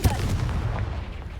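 A Confringo blasting spell in Hogwarts Legacy goes off as a brief booming explosion, loud and close, with a rumbling low tail fading over about a second.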